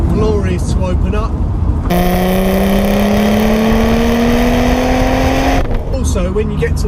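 A Jaguar XJS V12 on a B road, its engine revving loud and high above 4,000 rpm in a long steady climb, the rising whine filling the middle of the clip, with someone talking before and after.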